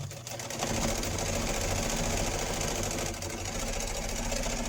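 A sewing machine runs continuously while stitching a fabric envelope, a loud, close, steady mechanical whir that starts up quickly and dips only slightly in pace near the end.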